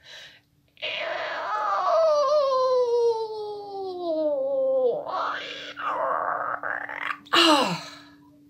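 A voice imitates a creaking gate opening: a long, drawn-out descending groan followed by a few shorter squeaky creaks, close and clear.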